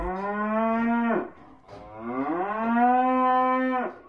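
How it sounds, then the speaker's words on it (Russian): A cow moos twice, long, loud and close, each low drawn-out call rising and then falling off, with no talk over it. "Корова."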